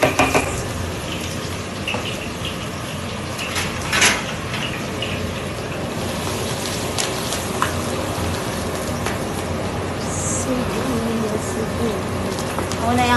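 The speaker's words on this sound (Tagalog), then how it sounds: "Mag-igisa tayo ng sibuyas." Onions sizzling in a hot pan while chicken lechon paksiw is cooked, a steady broadband hiss and crackle running throughout with a few sharper pops and utensil clinks.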